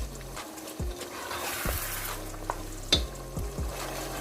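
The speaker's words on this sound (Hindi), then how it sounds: "तो इसको हम अच्छे से भून लेते हैं।" Mutton keema sizzles and fries in a pan with a soft continuous hiss, punctuated by a few sharp scrapes and stirring clanks of a spoon against the pan.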